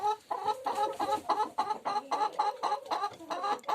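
Chickens cluck continuously on a poultry farm in a busy, rhythmic chorus of short, repeated calls, close and fairly loud.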